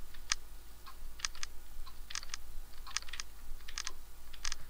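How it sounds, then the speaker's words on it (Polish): Quick clicks of keys on a computer numeric keypad during a browser game, coming in short bursts and isolated taps, close and fairly quiet over a low steady hum. "sobie trochę klawiaturę numeryczną, żeby tak nie męczyć myszki"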